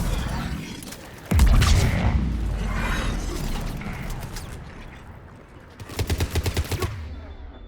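Combat gunfire in Mass Effect 3 on the planet Thessia: a heavy boom, then a sustained roar of battle noise, closing with a rapid close burst of automatic shots.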